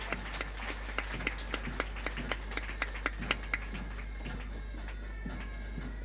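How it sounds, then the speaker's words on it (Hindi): Clapping from an audience at a police recruit passing-out ceremony in Lucknow, heard as a steady run of sharp claps at a moderate distance over a constant low hum, with no talking. "एक बार जोरदार तालियां इस शानदार आगाज के लिए"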